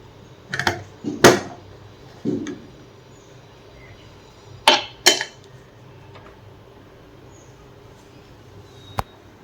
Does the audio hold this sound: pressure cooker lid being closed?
yes